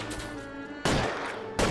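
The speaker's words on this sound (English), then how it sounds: "there are gunshots going off." Gunshots ring out in the video game L.A. Noire, two sharp loud blasts about a second apart over a steady background of game ambience and music.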